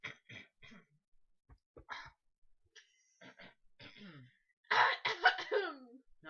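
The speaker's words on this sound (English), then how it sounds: "No, I'm seriously clearing my throat." Repeated throat clearing and short coughy bursts from a close voice, scattered in small rhythmic groups, ending with a louder rough cluster.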